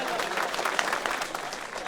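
A village crowd claps continuously, dense and fairly close, with a voice speaking over the applause.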